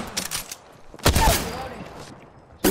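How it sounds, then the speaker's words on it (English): Gunfire in the video game Apex Legends, a Wingman revolver match: a couple of sharp shots cut through game noise, one loud burst near the middle with a ringing tail and another at the very end, while players talk in the background. "I'm taking fire."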